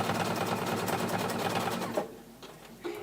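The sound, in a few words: sewing machine stitching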